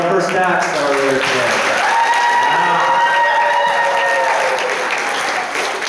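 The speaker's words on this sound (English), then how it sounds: "let's give a round of applause for all our first acts that are there" A crowd at a talent show claps for the opening acts, a sustained wave of applause mixed with cheering and voices, steady and loud throughout.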